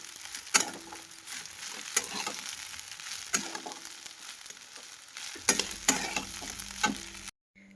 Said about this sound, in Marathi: शाबू टाकून घे. सर्व व्यवस्थित मिक्स करून घ्यायचं आहे.